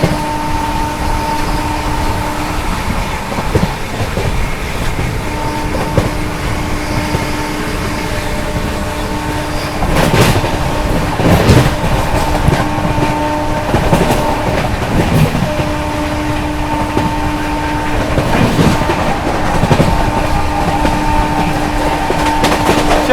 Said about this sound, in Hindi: यहाँ पर अपनी गोवा संपर्क क्रांति ओवरटेक करने जा रही है